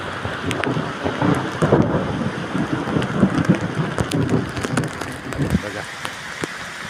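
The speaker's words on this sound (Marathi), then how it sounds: "आवाज येत असेल गडगडण्याचा." Thunder rumbles low and rolling during the first monsoon rain at Kalvi Bandar near Vengurla in Konkan, under steady rainfall with a speaking voice over it.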